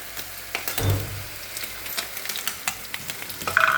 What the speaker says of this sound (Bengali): মশলাটাকে আমি এখন ভালো করে কষিয়ে নেব একটু জল দিয়ে